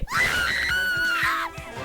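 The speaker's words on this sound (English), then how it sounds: "Oh my god, that scream." A woman's long, high, piercing scream rises and holds before breaking off, loud and close, from the Danganronpa fan game Project Eden's Garden.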